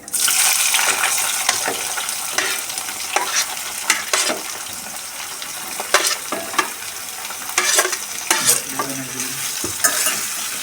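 Bitter gourds are tipped into hot oil seasoned with a pinch of asafoetida for a tangy stir-fry, giving a loud, steady sizzle throughout, broken by sharp clatters and scrapes as the pieces are stirred and turned.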